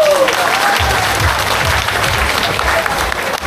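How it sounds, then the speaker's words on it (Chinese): An audience at a hiking club gathering breaks into loud, sustained clapping right after a call for encouragement, a dense crowd of hands applauding continuously with a faint voice briefly audible underneath. "咱掌声来鼓励一下啦。"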